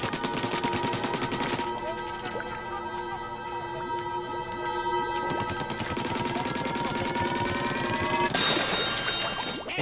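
Repeated weapon fire in Splatoon 2's Octo Expansion, dense rapid bursts of shots with ringing tonal effects, loud and continuous across the whole stretch, pausing briefly in the middle before resuming.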